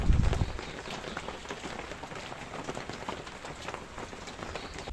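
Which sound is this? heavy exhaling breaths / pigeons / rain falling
rain falling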